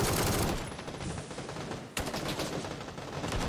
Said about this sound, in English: And we're getting shot by multiple squads.